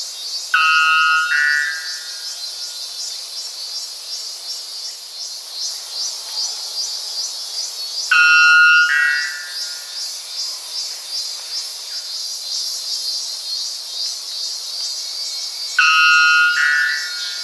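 A white bellbird gives three loud, ringing metallic calls spaced about eight seconds apart, each a harsh bell-like burst standing out over a steady hum of insects in a tropical South American forest.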